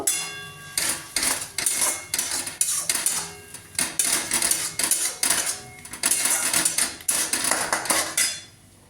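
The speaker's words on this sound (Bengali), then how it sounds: "এক একে জিরে গুঁড়ো আর হলুদ গুঁড়োটা দিয়ে দিলাম দিয়ে আবার নাড়ব" A metal spoon stirs cumin and turmeric powder in a cooking pan, making repeated loud clanks and scrapes in an uneven rhythm, close up and with no talking.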